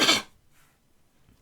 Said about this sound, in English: that was the most like heinous cough I think I've ever done